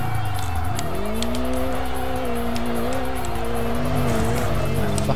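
Car drifting in the Kaido Racer 2 video game, with a steady engine drone and a sustained tire squeal that rises and bends in pitch as the slide continues, loud and close throughout.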